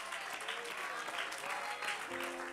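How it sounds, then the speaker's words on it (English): A church congregation breaks into sustained hand-clapping praise, a steady, fairly distant wash of many hands with faint tonal voices or music running beneath it. "Would you go ahead and give that hand clap to the Lord"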